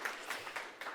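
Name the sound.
audience applause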